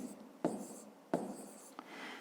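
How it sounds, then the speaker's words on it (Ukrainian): A pen or pencil scratches across paper during a fifth-grade maths exercise. Three sharp strokes start each short burst of writing, and the sound is close and quiet in a still room. "І пишемо відстань."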